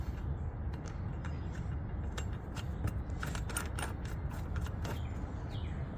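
A new anode is screwed onto a Tiara 3100 boat, giving close, irregular metallic creaks, clicks and ratcheting taps over a steady background, with no talking.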